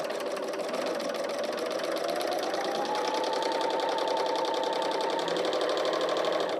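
A serger trims a fabric edge with a steady, close mechanical whir, running continuously at an even pace and speed, with no talking.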